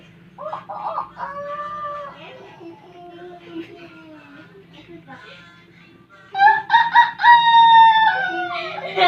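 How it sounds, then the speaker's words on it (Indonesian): A rooster crows in drawn-out calls, with a louder, closer crow in the second half, while a voice speaks and clucking mixes in. "takut ngeluruk jago"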